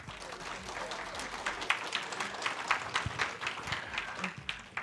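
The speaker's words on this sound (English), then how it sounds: "Let's give Paul a round of applause." An audience gives a round of applause for a speaker at a lifestyle presentation, fairly quiet clapping from a modest crowd with individual claps standing out as it rises and thins.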